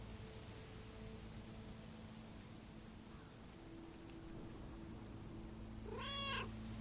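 A lone cat gives one clear, drawn-out meow near the end, rising over a steady background hum and hiss in a quiet indoor setting; no talking.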